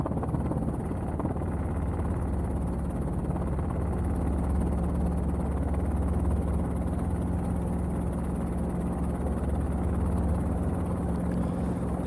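A Robinson R22 helicopter approaches a runway with its rotor and engine drone loud and constant, a steady broadband rush with a low throb underneath that persists without a break.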